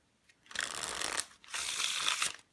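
Two quick bursts of riffling as a deck of cards is shuffled up close, each lasting under a second, with silence before and between.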